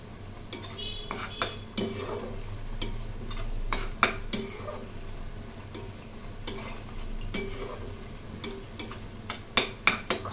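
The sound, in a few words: frying onion, garlic, ginger, chilli and tomato masala paste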